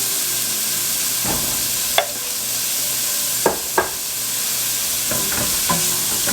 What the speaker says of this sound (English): Give this a mix. Now you just want to cook your vegetables until they get tender.